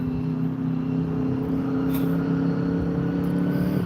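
Several cars idle and creep forward in a busy dispensary drive-thru lane, a steady low engine hum with tonal drone that continues throughout, no voices.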